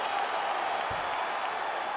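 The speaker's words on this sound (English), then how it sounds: "Stand and cheer, ladies and gentlemen." Steady wash of crowd applause and cheering fills an arena after a full 25-minute UFC women's bout, a dense even roar throughout with no break.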